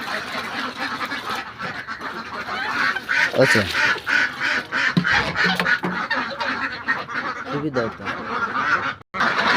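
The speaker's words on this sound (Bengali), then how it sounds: "আমি আপনাদের হাঁসগুলো ভালো করে দেখাই।" Ducks on a farm, being watered and dosed with antibiotic for illness, quack loudly and repeatedly in a noisy flock close by, with a man's brief remark partway through.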